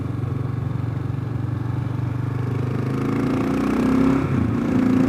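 A 2022 Kawasaki KLR650 fitted with a Yoshimura RS-2 exhaust runs steadily in a low, throaty putter, then its engine note rises briefly in a couple of light revs near the end, heard close and alone.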